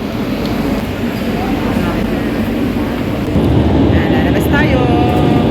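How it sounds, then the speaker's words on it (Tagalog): A train in Barcelona gives a steady, loud rumble and roar throughout, with people talking over it. "sakay tayo dyan sa tren na yun"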